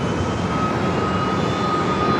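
A passenger airliner departing runway 25 right at LAX, bound for Miami, gives a steady, loud jet engine roar with a faint whine, continuous and unbroken throughout.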